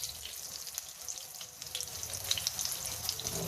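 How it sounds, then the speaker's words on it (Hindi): Three beef burger patties sizzle and spit steadily in a hot frying pan, a close, continuous crackle with no voices. "तो ये मैं अब इसको फ्राई कर लेती हूँ"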